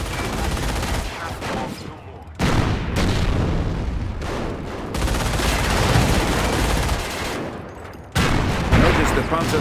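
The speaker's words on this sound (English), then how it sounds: "Notice the Panzer's slow rate of fire." Heavy Panzer tank cannon fire and battlefield explosions in the World War II strategy game Company of Heroes, booming blasts in several dense bursts with sustained rumbling between them, loud and close.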